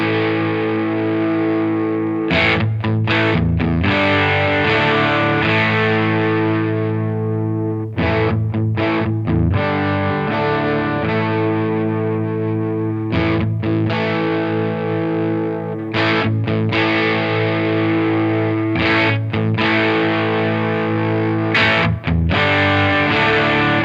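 Distorted electric guitar runs through a Horrothia Triage preamp into a Strymon Iridium as the high-frequency balance filter is swept, with repeated sustained chords and riffs separated by short pauses, loud and saturated.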